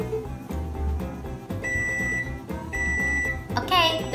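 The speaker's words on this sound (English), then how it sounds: "there goes the timer for our cookies" A kitchen timer goes off for baking chocolate mint sandwich cookies, giving two high electronic beeps under ongoing talk and background music.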